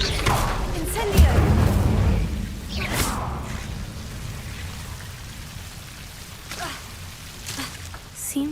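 Incendio fire spell cast in the Hogwarts Legacy video game, whooshing bursts of flame and magical crackle with rain-like hiss, several swells across the clip, with a voice talking at points.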